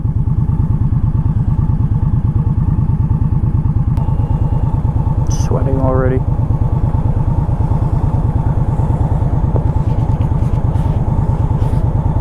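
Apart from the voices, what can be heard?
motorcycle riding on freeway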